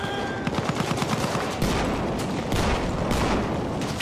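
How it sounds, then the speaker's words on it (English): Rapid machine gun fire in the World War I shooter Battlefield 1, loud and continuous bursts layered with other gunfire and battle noise, a dense chaotic fusillade throughout. "Machine gun!"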